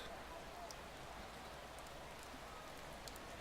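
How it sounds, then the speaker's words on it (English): Rain in the racing management game Motorsport Manager makes a soft, steady hiss that stays constant and faint throughout. "We do indeed have a bit of rain starting for practice."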